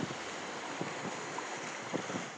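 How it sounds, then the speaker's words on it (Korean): A small tour boat rides slightly choppy sea off Udo Island, engine drone and wind rush blending into a steady broadband roar with soft thumps of hull against waves. "오늘 약간은 파도가 있습니다"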